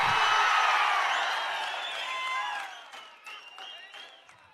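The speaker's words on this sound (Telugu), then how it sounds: "అవునంటే గట్టిగా చప్పట్లు కొట్టి చెప్పండి" A political rally audience for Chief Minister Chandrababu erupts in clapping and cheering, with loud whoops and whistles at first that gradually fade as the noise thins out.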